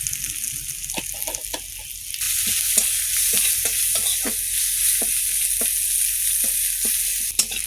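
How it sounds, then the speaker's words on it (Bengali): Mustard seeds and dried chillies spluttering in hot oil, a bright continuous hiss dotted with many sharp pops and crackles at irregular intervals, close up with no voices. "শুকনো লঙ্কা, তেল দাও, সর্ষে ফোটন"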